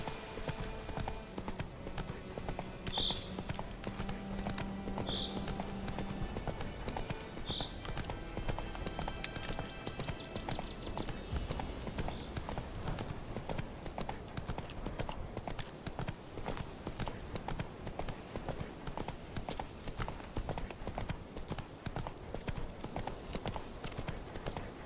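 Roach, the horse in The Witcher 3, gallops in a steady rapid clip-clop of hooves that runs continuously under a dense bed of game music and ambience, with a few brief higher accents early on.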